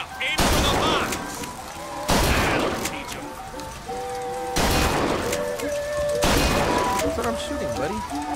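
Four loud, separate gunshots blast at a box in the Bioshock Infinite video game, each sharp crack followed by a ringing decay, with game music and voices talking between the shots.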